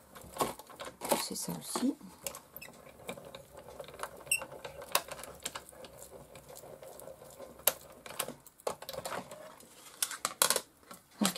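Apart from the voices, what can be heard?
small frame passing through a cutting machine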